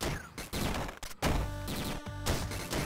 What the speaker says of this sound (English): It's like you have a little explosion surrounding the spot you jump from.